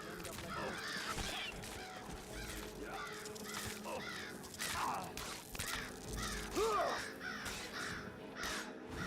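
A flock of crows caws repeatedly and harshly while attacking in Skyrim, the calls overlapping near and far over game ambience.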